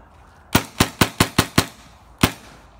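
A gun firing blanks sounds six loud, sharp cracks in a quick, slightly uneven volley, then a single final shot after a short pause, close and punchy with no talking.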